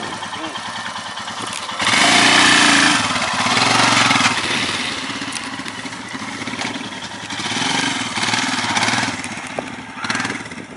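A new BS-model Royal Enfield Himalayan single-cylinder motorcycle runs up close, its thumping engine swelling in two loud revving bursts between steadier idling stretches, with someone talking over it at times.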